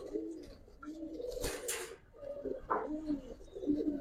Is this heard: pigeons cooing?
yes